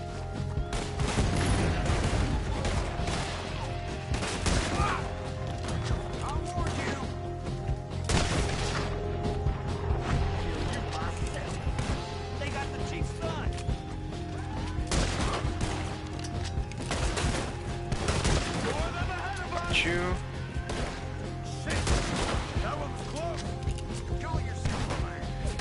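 Springfield rifle gunfire in the video game Red Dead Redemption 2, with repeated loud single shots and booms spaced out over a busy game soundscape of music and ambience, with a voice talking at times.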